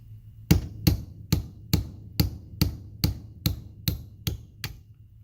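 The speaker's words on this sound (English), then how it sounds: "before you hammer in your roll pin" Steady, evenly spaced hammer taps, about eleven sharp metallic strikes in a row, close and clear, as a roll pin is hammered in.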